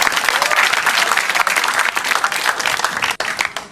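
An audience at a stand-up comedy show bursts into loud, dense applause, a full crowd clapping close and continuous with a brief dip near the end before it carries on.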